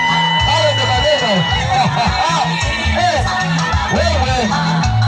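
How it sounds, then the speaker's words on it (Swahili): Women ululating at a wedding, their trilling, wavering cries rising again and again over a loud, dense crowd of cheering and chatter, close and continuous. "Vigelegele kina mama."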